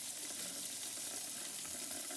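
Tap water runs into a kitchen sink while food is washed for a crockpot beef dish, giving a steady, close, continuous hiss and splash with no pauses.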